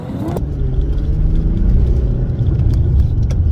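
An Infiniti G37 pulls away from a traffic light, its engine a loud, steady low rumble that swells as the car picks up speed, with no talking.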